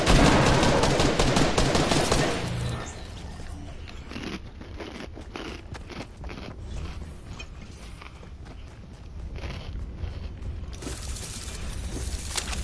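Gunfire in a shooting video game: a dense burst of rapid shots at the start, then scattered sharper cracks and mechanical clicks, loud and close with no talk.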